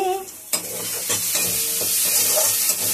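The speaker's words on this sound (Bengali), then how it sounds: "দেখো এবার আমার রান্নাটা প্রায় মশলাটা কষানো হয়ে এসছে" Masala spices sautéing in a pan, a steady close sizzle with occasional stirring scrapes and a few knocks against the pan.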